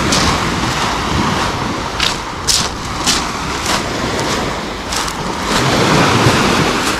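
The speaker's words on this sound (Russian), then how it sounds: "Пойдемте посмотрим на море." Sea surf at Lazarevskoye on the Black Coast washes in continuously as broadband roar, with gusts of wind buffeting the microphone and a few brief splashing crests, loud and close.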